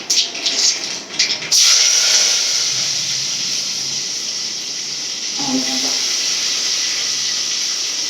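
Fenugreek seeds splutter in hot oil, then green chilli, curry leaves and onion go in. A few crackles are followed by a sudden loud hiss that holds steady and fades slowly.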